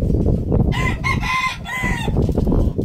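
A rooster crows once in a drawn-out, wavering call, close and clear over a rough, steady background rumble.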